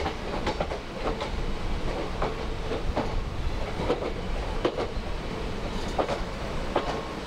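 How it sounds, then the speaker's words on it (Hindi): Passenger train 05088 hauled by an electric locomotive pulls out of a station, heard as a continuous rumble with repeated rhythmic wheel clicks over rail joints, moderately close, with no speech. "तो ट्रेन ने अपना डिपार्चर ले लिया है"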